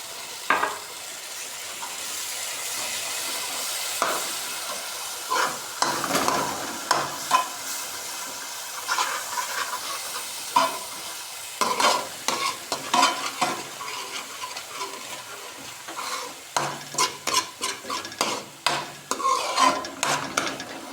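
Onions and garlic frying in a pan for a potato and soybean curry, with tomatoes added and stirred in, give a close, steady sizzle broken by frequent spoon scrapes that grow quicker and more rhythmic toward the end.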